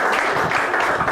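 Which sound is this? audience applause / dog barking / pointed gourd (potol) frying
audience applause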